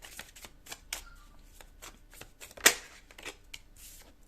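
A tarot card deck being shuffled close by, with rapid riffling flutters and soft card slaps, one sharper snap partway through, fairly quiet and without talk.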